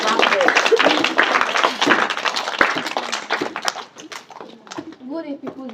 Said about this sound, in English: Clap there, clap there, clap there